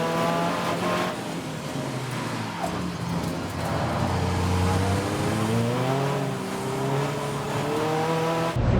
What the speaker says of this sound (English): the Audi TT about to be overtaken by car 92, which is the Seat Leon Euro Cup car